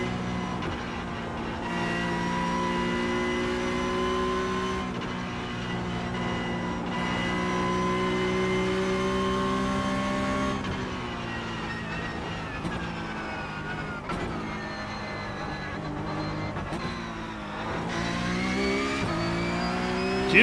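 A Porsche 992.2 Cup race car engine in iRacing, revving through the gears with rising and falling pitch as it accelerates. Sharp shifts and lifts break the sustained howl, and the engine sounds loud and continuous.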